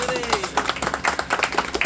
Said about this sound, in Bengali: শান্তনুদার আর রাজার জন্য একটা জোরে হাততালি হয়ে যায়।